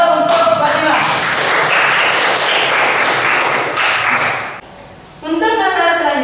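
A classroom breaks into applause for a student, a dense burst of clapping lasting several seconds before it fades, with a voice speaking over the start and after.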